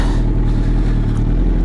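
A Yamaha R1 motorcycle engine running at a steady, low, rumbling idle, loud and close, with no voices over it.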